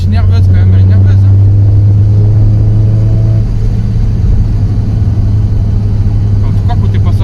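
A Porsche 944 Targa engine accelerating, a loud, steady low rumble and drone recorded from inside the car, with a tone that rises and then levels off. There is no talking.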